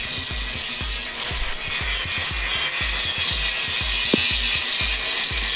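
A tool rubs back and forth over the welded joints of a metal chicken cage, producing a steady, rapid, rhythmic rasping scrape that repeats evenly over a constant harsh hiss.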